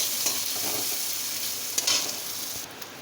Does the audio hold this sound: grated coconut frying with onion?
yes